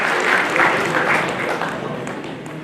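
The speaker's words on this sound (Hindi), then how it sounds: "भाई जोरदार तालियों से उनका अभिनंदन कीजिए" Sustained applause from a large audience at an award ceremony in the Parliament of India, a dense, even wash of clapping that continues throughout without pause.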